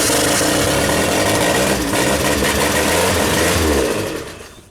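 Genie boom lift petrol engine firing up and running, a loud, close, rough mechanical chug with a fast rhythmic beat that holds steady before fading toward the end.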